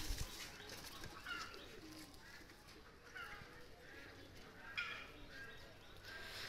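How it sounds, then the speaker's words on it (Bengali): A pair of released pigeons, one a White Golden male, with soft bird calls and brief wing flutters over a dense, noisy outdoor background at moderate level. "তো এই দুইটা কবুতর ছেড়ে দেখাচ্ছি"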